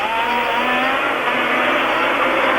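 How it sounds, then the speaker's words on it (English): Ferrari Formula One cars at the 1979 Monaco Grand Prix roar past near and loud, a continuous high-pitched engine scream that stays strong throughout with no talk over it. "the two Ferraris, which are coming up now to complete lap 10 in this 76-lap race"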